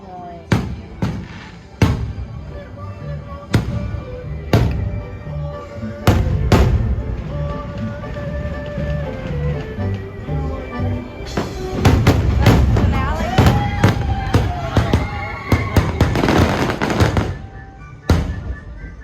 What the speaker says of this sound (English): the fireworks are going off.